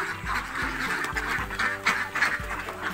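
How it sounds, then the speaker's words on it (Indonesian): Laying ducks quack repeatedly while queuing to eat feed, a dense flock of nasal calls overlapping close by, with several loud quacks standing out in an irregular rhythm. "Jadi bebek kita ngantri makannya itu guys"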